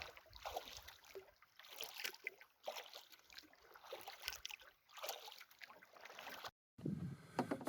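A solo canoe paddles across a calm lake in Temagami, Ontario, with soft rhythmic strokes and gentle water dribbles repeating every second or so, faint and close, ending after a brief cut.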